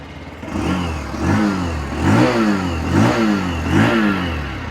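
A 2025 Bajaj Platina 100 motorcycle engine, about 100cc and BS6 OBD2 compliant, starts and revs in repeated throttle blips, each rising and falling in pitch, close by with no talking.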